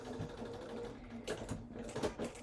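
A sewing machine back stitches across a holiday placemat, its quiet, steady mechanical whirring broken by a few short bursts of faster stitching near the end.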